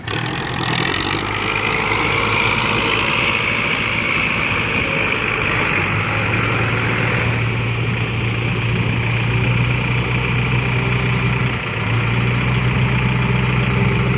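A dump truck's engine idles loudly and steadily on a muddy plot just after rain, a continuous low rumble with no talk over it.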